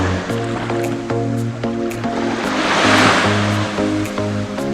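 Surf washes continuously onto a beach at Ao Prao on Koh Samet island, a steady broad rush of waves that swells slightly midway, heard under a repeating melodic music track.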